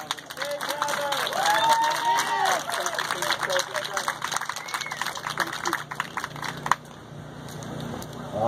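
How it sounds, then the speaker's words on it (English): A crowd applauds a military veteran about to speak, with a steady wash of clapping and a few cheers that continue for several seconds, mixed with voices before fading. "please, give a warm round of applause to a soldier who fought for you, Mr. Travis Jackson."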